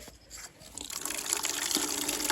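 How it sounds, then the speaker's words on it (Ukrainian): Tap water runs and pours into a container to wash a large fish, starting with faint trickles and swelling into a steady, full gushing stream. "Зараз ми, зараз ми додамо сюди водички"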